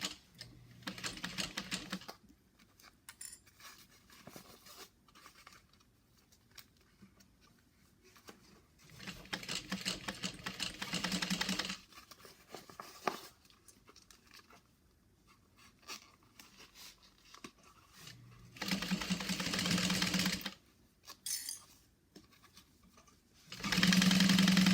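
Domestic sewing machine stitching a seam around curves, running in several bursts of steady rapid whirring separated by pauses, close and moderately loud with no talking.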